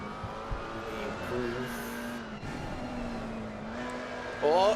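A race car slides through a corner in Assetto Corsa Competizione, its engine a steady, moderately loud drone with a brief rising squeal near the end, while people talk over it.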